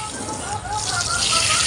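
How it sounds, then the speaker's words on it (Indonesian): Water poured from about a one-liter container onto a potted broccoli plant, a brief steady splashing and trickling stream, close and fairly loud. "Nah contoh ini saya siram ya dengan air 1 liter."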